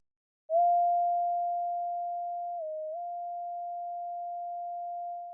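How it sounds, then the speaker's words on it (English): A lone synthesized sine tone in a music production holds steady and clean, dipping briefly in pitch midway before returning, with nothing else around it. "on top of that, we got this little sine wave going on"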